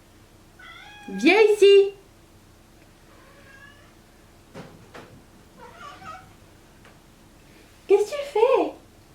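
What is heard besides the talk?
cat meowing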